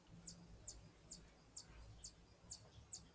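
Bird chirping outside a closed window, seven short high chirps repeating at a steady rhythm, very faint and muffled.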